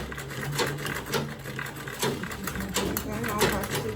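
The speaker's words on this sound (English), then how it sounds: "So I'm going to be sewing second back stitch." A sewing machine back stitching through a quilted tote bag runs at a steady close whir, its fast needle chatter continuing without a pause for several seconds.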